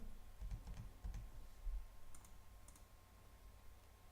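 Arrow keys being pressed on a computer keyboard while nudging an icon in Microsoft Word, a few quiet, soft clicks in a short cluster near the start, then near silence.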